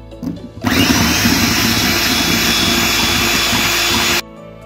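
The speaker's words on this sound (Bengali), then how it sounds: "একটু ব্লেন্ডার দিয়ে ব্লেন্ড করে নিয়ে অল্প দুধ দিয়ে দেবো।" An electric blender whirs loudly and steadily for about three and a half seconds while mixing chocolate cupcake batter with milk, then cuts off abruptly, close and alone.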